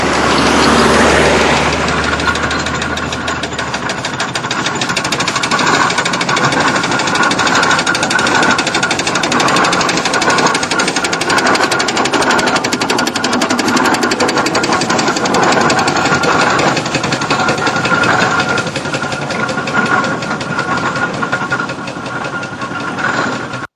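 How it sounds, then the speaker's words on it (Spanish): Tractor engine running alone in a loud, continuous, rough drone that holds steady for the whole stretch with a knocking, clattering texture. "Ahí viene el tractor, ¿lo ven?"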